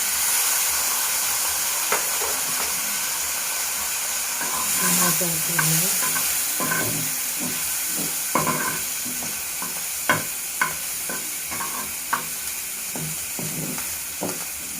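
Continuous hissing sizzle of seeds frying over low heat in a pan with turmeric and chili powder, with intermittent scraping clicks of a spoon stirring, no talking.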